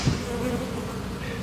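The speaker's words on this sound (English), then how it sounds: "most swarms are not defensive because it's just bees." A small honey bee swarm in Belle Chasse, Louisiana buzzes steadily at close range, a continuous dense hum with no voices over it.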